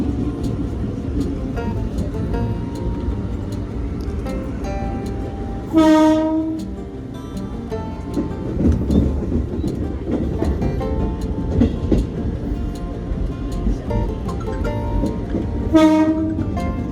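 A KRL commuter train departs Lempuyangan station in Yogyakarta, bound for Solo, with a steady rolling rumble and rattle throughout and two loud horn blasts about ten seconds apart.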